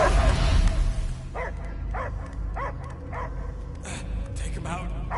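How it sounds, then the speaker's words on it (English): A dog in Guardians of the Galaxy gives a run of about six evenly spaced loud barks, close and clear, following a rumbling opening with voices talking. "I hear only barking."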